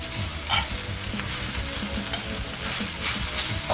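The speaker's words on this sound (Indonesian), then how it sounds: "Kita masukkan nasinya." Rice stir-fried in a pan for nasi goreng mawut, with steady close sizzling and repeated scraping stirs of the spatula, no talking.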